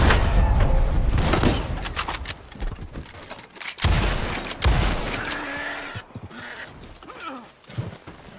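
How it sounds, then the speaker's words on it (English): Explosive-round gunfire in the Red Dead Online western game: heavy, booming shots crack out over a busy, clattering background of mechanical clicks and hoofbeats, with the loudest blasts landing midway through. "it made this Astro guy miss 5 explosive rounds on me"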